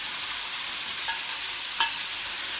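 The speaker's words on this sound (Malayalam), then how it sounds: "ഇത് ഒരു കുറച്ച് സെക്കൻഡ്സ് ഇളക്കി കൊടുത്താൽ മതി" Broccoli, mushroom and capsicum sizzle steadily in hot oil, a constant close frying hiss with two brief scraping clinks of stirring.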